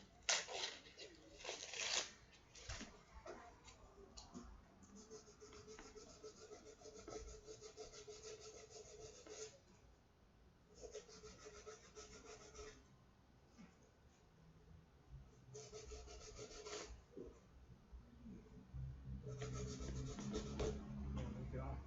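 Fine grit sandpaper rubs over varnish on a handmade guitar, a dry scratchy rasp repeating in short strokes with pauses, fairly faint and close, with occasional quiet talking between passes.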